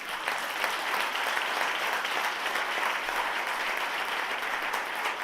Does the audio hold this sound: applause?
yes